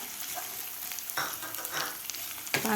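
Chopped onion sautéed in a pan for paneer bhurji, a steady close sizzle broken by a few scraping stirs of a spatula, short and without talk.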